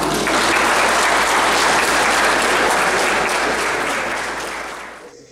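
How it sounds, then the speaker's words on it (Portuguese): Audience applause from a crowd at a live coaching stage event, loud and sustained clapping that fills the whole stretch before tapering off at the end. "Uma salva de palmas para vocês."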